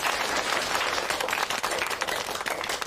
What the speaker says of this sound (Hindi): उसके लिए तालियां बजाते हैं।